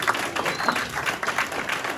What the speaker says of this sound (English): You're clapping, everybody clapping.